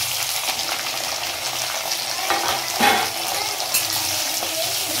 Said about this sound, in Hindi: तो भून गया तो अभी जो है हम प्याज को डाल देते हैं इसमें